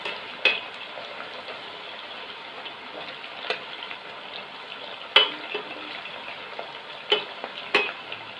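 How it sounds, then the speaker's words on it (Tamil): Potato chips deep frying in hot oil, a steady close sizzle and crackle with occasional sharper pops and stirring clinks throughout. "இப்போ நம்ம வந்து இந்த பொட்டேட்டோ சிப்ஸை பொரிச்சு எடுத்துடலாம்"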